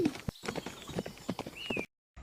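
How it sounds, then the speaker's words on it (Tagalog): Horse hooves clip-clopping in a quick, irregular run as the horse flees, fairly close, with a short whinny-like squeal near the end before the sound cuts off. "nang makita ng kabayo ang kuneho, dali itong tumakbo palayo"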